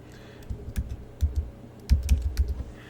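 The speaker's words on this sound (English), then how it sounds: "I just hit F19 on the keyboard, and it applied those letters right to it" Someone types on a computer keyboard in quick bursts of crisp, clustered keystrokes with short pauses between groups, close and fairly loud with no voices.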